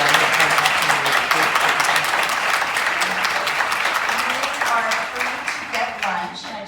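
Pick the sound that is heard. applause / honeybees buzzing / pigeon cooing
applause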